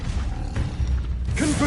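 A Levioso levitation spell cast in Hogwarts Legacy makes a mechanical, creaking whoosh that builds into a brighter shimmering ring near the end, set over a low continuous rumble of game ambience.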